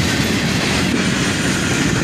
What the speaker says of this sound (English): And finally, the end of the train passes by.